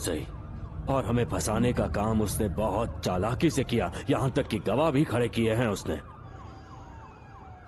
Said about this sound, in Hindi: ये एम्बुलेंस की आवाज है।